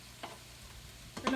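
Smoked, precooked kielbasa sausage pieces land in a pan of softened vegetables on medium-low heat, giving a soft, quiet sizzle with a couple of faint taps and scrapes.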